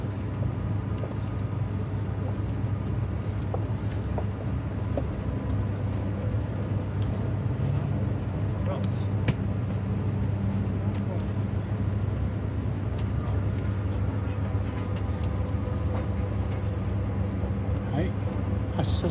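Interior of the Akita Shinkansen Komachi departing on the Tazawako Line, a steady low rumble and hum of the moving train with faint clicks and rattles, continuous and even throughout.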